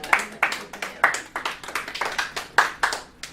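A small group claps in uneven, sparse bursts for a few seconds, individual hand claps clearly separate, close and fairly light.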